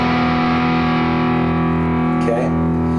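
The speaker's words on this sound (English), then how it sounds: "you put a little distortion on the old amplifier and you're in rock territory already" A sustained electric guitar chord through a distorted amplifier rings out loud and steady, its overdriven tone humming without a break.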